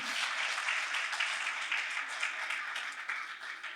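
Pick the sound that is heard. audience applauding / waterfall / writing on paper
audience applauding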